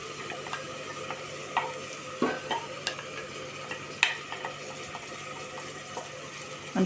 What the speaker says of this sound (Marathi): आपल्याला व्यवस्थित मिक्स करून घ्यायचं आहे